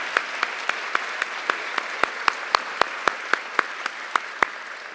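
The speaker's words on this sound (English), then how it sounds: "I propose a round of applause for his leadership in putting on this great festival." At the Savannah Book Festival 2019 closing address, the audience applauds the festival board president with evenly spaced, crisp claps at a steady pace, about four per second, growing a little stronger midway.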